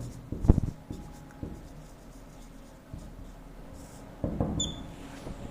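Chalk or a marker taps and scratches on a classroom board during a maths lesson, with a sharp knock early and a few short strokes later, faint and close against a quiet room.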